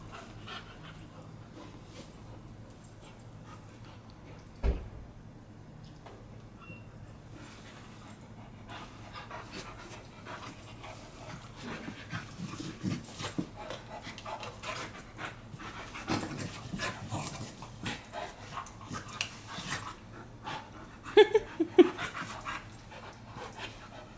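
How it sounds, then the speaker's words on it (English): Dogs wrestling pant rapidly and huff nearby, with scattered whimpers, scuffles and a sharp thump, the breathing growing busier toward the end. "See, wrestling is allowed, but using teeth on other doggies' body parts"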